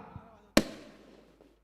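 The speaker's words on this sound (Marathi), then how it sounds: "फटाक्यांची आतषबाजी बघायला मिळते." A single sharp firecracker bang at a cricket match, close and loud, with a short echoing tail fading over the next second.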